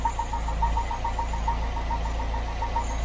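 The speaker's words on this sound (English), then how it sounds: "That noise is because I've got the vac on the inlet" A Ford Pinto engine idles close by with a vacuum gauge hooked to the inlet, giving a steady low rumble with a faint rhythmic ticking pulse and a thin, high, whistling tone above it.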